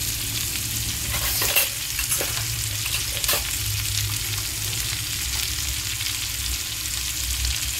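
Ginger garlic paste fries in a pan with a strong, continuous sizzle and hiss, broken by a few sharp stirring scrapes, close and without talk.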